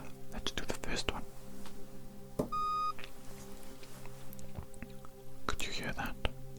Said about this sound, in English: whenever you hear a beep or a series of beeps, you just tell me yes